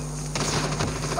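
Video game gunfire crackles in dense, rapid bursts over a steady background hum, close and fairly loud, with no voices.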